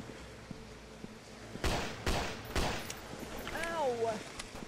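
Gunfire in the game Landless during a container ship raid: three sharp, distinct shots spaced about half a second apart, fairly close, followed by a wavering tonal cry over quiet background.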